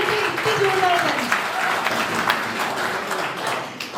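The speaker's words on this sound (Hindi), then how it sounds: "एक बार खुद के लिए ताली बजा दो।" Students at a postgraduate college session clap for themselves, a dense continuous patter of hands held steady for about four seconds, with a voice heard over the applause.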